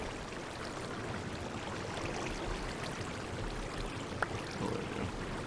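Flowing water turning modded water wheels in a Minecraft survival world, a steady, even rushing wash that continues without pause.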